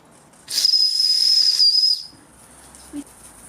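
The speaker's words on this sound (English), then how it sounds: "The boiler is building pressure as the whistle now works." A sharp, shrill whistle on a Wilesco D100E toy steam engine blows for about a second and a half with a hiss of steam, then drops to a soft background hiss.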